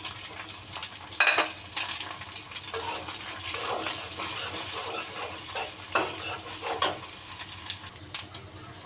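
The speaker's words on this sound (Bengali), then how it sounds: "ডিমগুলি ভাজা হয়েছে" Eggs fry in a pan for a breakfast potato dish, a steady close sizzle with scraping stirs and a few sharper clatters, with no talk.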